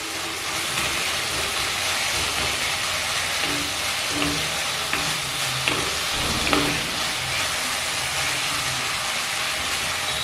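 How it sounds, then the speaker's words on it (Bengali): Water spinach (kolmi shak) frying in a wok, a steady close sizzle running throughout with occasional soft scrapes and clinks as it is stirred. "যতক্ষণ না কড়াইয়ের গা থেকে শাক ছেড়ে না আসে ততক্ষণ এইভাবে একটু নাড়াচাড়া করে ভেজে নিতে হবে"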